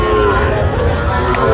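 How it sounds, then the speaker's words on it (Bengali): A Sahiwal bull calf moos loudly among livestock at a Jessore cattle farm, the call sustained across the whole moment amid dense surrounding crowd and animal noise. "শাহিওয়ালের বাচ্চা"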